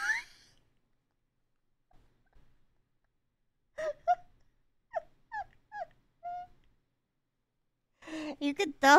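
A dog whimpers and yips in short, high bursts while being brushed, several small whines spaced across a quiet room, with a person talking at the start and end.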